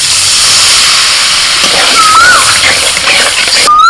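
Poppy-seed water is poured into a hot pan with onions and green chilies, setting off a loud, steady steam hiss and bubbling close up that lasts throughout, with a faint high whistle-like tone near the end.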